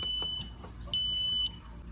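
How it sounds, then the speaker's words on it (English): Sharp, high electronic beeps from an Ademco Vista 10SE alarm keypad counting down sound in short bursts, with a longer sustained beep between them, over a quiet room. "it should start beeping really quickly right now, signifying that there is 5 seconds left"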